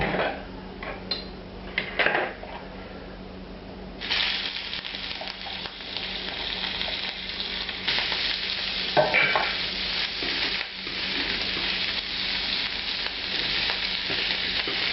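Shrimp sear on a smoking-hot cast iron grill. Soft clinks come first, then a loud, sustained sizzle bursts in and crackles steadily, broken by occasional utensil knocks.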